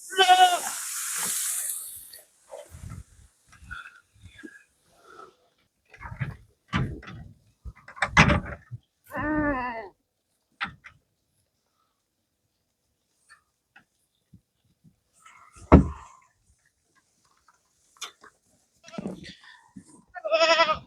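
Several goats, including a pregnant doe, bleat loudly and close by in a series of separate wavering calls with quiet gaps between, plus an occasional knock or thump.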